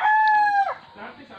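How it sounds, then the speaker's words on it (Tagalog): A wild chicken (labuyo) gives one loud, clear crow close by, then falls quiet. "Yan po yung manok na wild chicken, o tawag dito ay labuyo"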